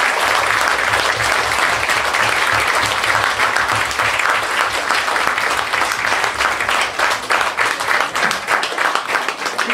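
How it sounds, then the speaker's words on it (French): Loud, sustained applause from an audience at a tenth-anniversary stage show, dense clapping holding steady for several seconds and thinning slightly toward the end. "On peut les applaudir bien fort."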